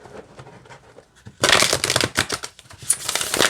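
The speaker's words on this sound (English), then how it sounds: "I'm going to shuffle them all together and see what comes out." A deck of Disney Princess affirmation cards is shuffled up close: soft riffling at first, then louder, dense flutters and slaps of card stock for the last two seconds, with no talking.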